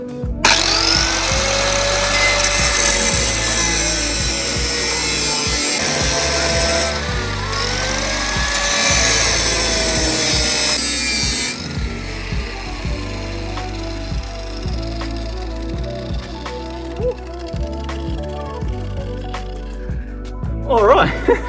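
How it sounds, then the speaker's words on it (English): Power tool cutting through an old exhaust tip on a V8 Toyota Soarer, a loud continuous grinding whine with shifting pitch that runs steadily for most of the stretch, then cuts out near the end. "Alright, so I got one tip cut off."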